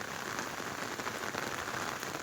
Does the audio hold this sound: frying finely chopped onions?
no